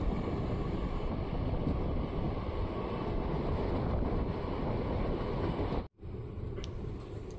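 Bengaluru–Hospet Intercity Express train pulling into Molakalmuru railway station, a steady loud rumble with rushing wind, broken by a brief sharp drop near the end before the roar resumes.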